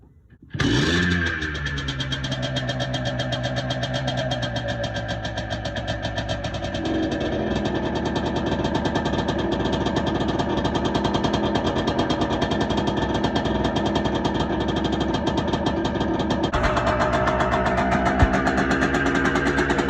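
A Yamaha Blaster 200cc quad engine, freshly top-end rebuilt, starts up and settles into a steady, buzzy idle running slightly high, shifting pitch slightly a couple of times.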